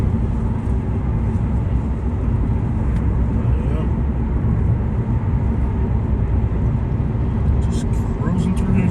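A car cruises along the Sam Houston Toll Road through Houston on a sunny afternoon, with a steady, loud wash of road and engine noise that never lets up.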